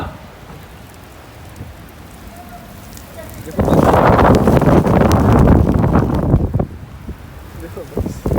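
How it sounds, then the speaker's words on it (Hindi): Heavy rain pours in Qatar, falling faint and sparse at first, then a loud, dense downpour bursts in halfway and drums steadily on the surface close by, with wind buffeting the phone's microphone. "ऐसा बारिश, मोबाइल भी भीग रहा है"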